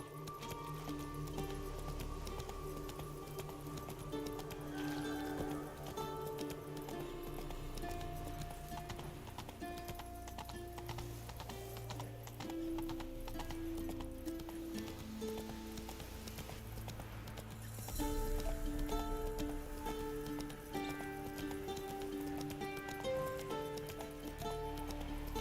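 A horse gallops in The Witcher 3 on Xbox Series X, its hooves drumming in a continuous rhythm beneath steady game music, with a brief faint whinny.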